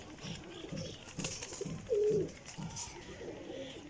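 Pigeons of a flying breed coo softly in a series of low, rhythmic rolling calls, one phrase after another, fairly close in a quiet setting.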